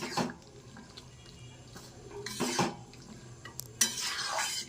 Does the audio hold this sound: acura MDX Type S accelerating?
no